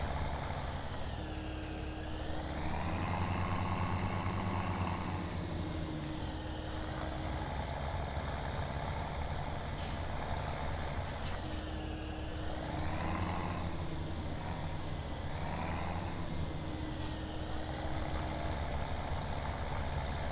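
A tractor in Farming Simulator 17 turning and plowing a field, a constant loud engine drone whose pitch rises and falls with throttle changes, steady throughout with no talk.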